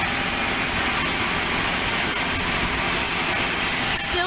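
Small aircraft at Aurora Municipal Airport, one having just landed, producing a loud, steady engine roar that fills the whole stretch without letting up.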